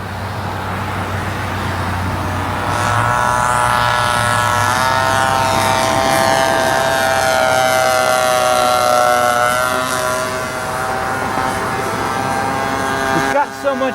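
A 60-size Reactor RC biplane engine makes a low pass, a loud steady whine that rises and falls in pitch as the plane sweeps by, with people talking nearby.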